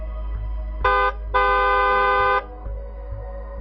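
A car horn honks twice, a short blast followed by a longer sustained one, loud and close, with low rumbling background noise between.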